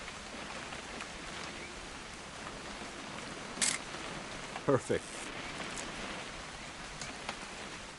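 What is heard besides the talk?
rain in the video game What Remains of Edith Finch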